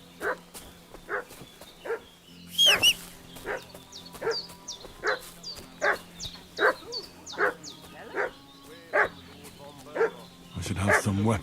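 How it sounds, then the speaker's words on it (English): A dog in the video game Kingdom Come: Deliverance 2 barks repeatedly at a steady rhythm, with a few whimpering yips mixed in. Game ambience runs beneath the barking, and a voice speaks near the end. "What's that dog making such a fuss about?"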